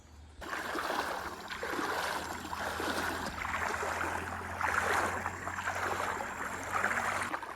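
Flowing water of the Gad river, which runs down from Kankavli, a steady broadband rush with splashing texture, moderately loud and continuous throughout with no voices.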